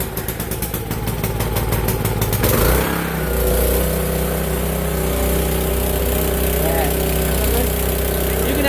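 A Mitsubishi Starion K engine cranks in a rapid stutter, catches first time and settles into a loud, steady idle close by, with voices talking over it.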